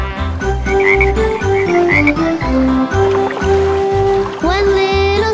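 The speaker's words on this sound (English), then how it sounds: "Then there was one green speckled frog." Cartoon frog croaks sound over the bouncy music of a children's counting nursery rhyme about green speckled frogs, loud and rhythmic against a steady bass beat.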